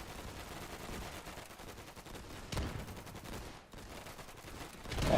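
Bursts of rapid gunfire and scattered shots in the war video game Easy Red 2, fairly faint and distant, with a couple of louder cracks standing out and a heavier burst at the end.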